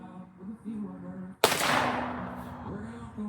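A single sharp gunshot cracks at a shooting range, loud and close, followed by a long decaying echo that rings out over a steady low hum.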